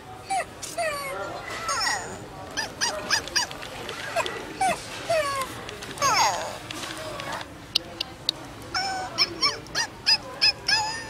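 A FurReal Friends toy dog whimpers and yips in short repeated bursts, close by, while people talk over it.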